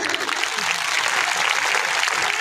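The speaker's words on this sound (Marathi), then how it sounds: "फक्त बाया टाळ्या वाजवा" An audience of women clapping at a speech event, a brief dense burst of applause held steady at moderate loudness.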